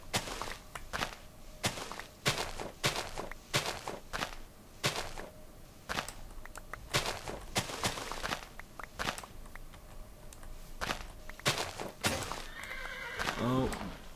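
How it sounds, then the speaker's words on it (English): Horse neighing and whinnying with clip-clopping hooves in the Minecraft-based game Hexxit, repeated bursts over steady game ambience, with someone talking throughout. "Oh, I heard a horse."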